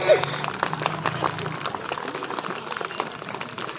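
Scattered clapping from a small group at a school annual sports event, a loose patter of hands that continues steadily, with a voice audible at the start.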